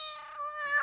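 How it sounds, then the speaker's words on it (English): A single drawn-out cat meow, close and clear, rising slightly and then dropping off at the end. "Here are all my meows."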